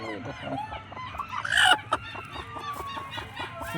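Crested desi chickens cluck close by in short bursts on a mixed farm, with one louder squawking cry in the middle and soft voices murmuring underneath.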